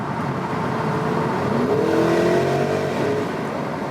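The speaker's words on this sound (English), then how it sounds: "that sports exhaust is really something" A Porsche Cayenne GTS Coupé's 460 hp V8 revs and accelerates in Sport Plus mode, its sports exhaust giving a deep, rumbling roar that rises in pitch, echoing in a tunnel.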